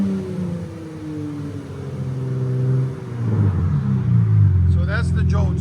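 A car with a Jones muffler exhaust revving: a steady low engine drone that swells as the throttle rises, with a voice briefly heard near the end.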